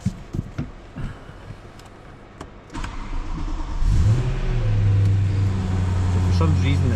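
A BMW E92 M3 starts up: after some clicks and faint cabin sounds, the engine cranks and catches with a rising roar, then settles into a steady, close, loud idle.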